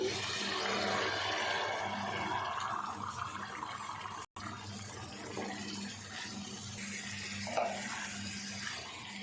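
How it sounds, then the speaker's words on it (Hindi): White lobia beans tipped into a pan of frying tomato masala and stirred: a steady, fairly loud sizzle with scraping stir sounds, cut by a brief silent gap midway. "और अब डाल देंगे इसमें लोबिया।"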